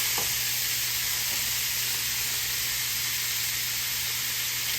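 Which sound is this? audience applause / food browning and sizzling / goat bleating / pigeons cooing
food browning and sizzling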